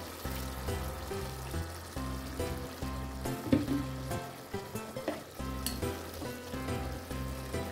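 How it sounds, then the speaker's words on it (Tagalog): Vinegar goes into pork adobo frying in a pan and sets off a steady, quiet sizzle with light pouring and trickling sounds. No one talks over it. "Lagyan na natin siya ng vinegar, guys."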